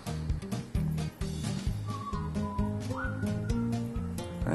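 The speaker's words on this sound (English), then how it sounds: "He's whistling. Stop whistling," A person whistles a few short, wavering notes against loud, choppy background noise outdoors near a house, the whistle fairly faint and intermittent under the clatter.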